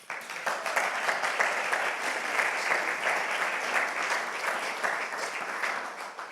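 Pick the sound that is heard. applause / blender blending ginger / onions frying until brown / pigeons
applause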